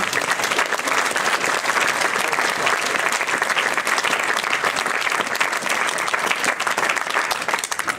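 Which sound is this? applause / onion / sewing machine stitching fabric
applause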